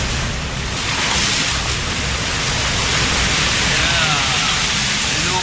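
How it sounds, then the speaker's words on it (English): Ocean swell rolls at sea as steady, dense surf and wave wash with wind rushing across the microphone, a continuous loud roar with no clear breaks. "Ah, ces belles vagues là, ouais."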